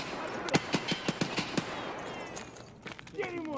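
Single-fire gunshots in Escape From Tarkov, a quick series of about eight sharp reports at a steady rhythm, followed by a few fainter shots and clinks, with someone talking over them.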